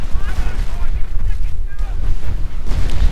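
Artillery barrage in a World War II real-time strategy game match, with loud booming blasts and crackling impacts rolling across several seconds as a commentator talks over the battle.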